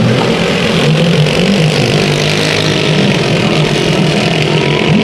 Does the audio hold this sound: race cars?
yes